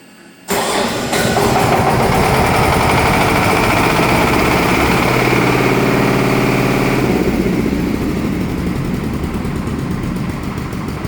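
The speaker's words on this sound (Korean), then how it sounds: "소방 제어반으로 엔진 한번 돌려보겠습니다" Diesel fire pump engine in a building's pump room, started manually from the fire control panel, cranks abruptly and then settles into a loud, steady, close rumbling idle.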